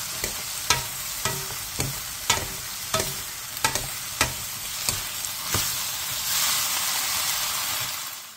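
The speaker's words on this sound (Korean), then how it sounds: "느타리버섯과 양파를 넣고 버섯의 숨이 완전히 죽을 때까지 볶아주세요" Zucchini, oyster mushrooms and onion stir-fried in a pan over medium heat, with crisp spatula taps in a loose rhythm over a constant sizzle that swells into a steady hiss near the end.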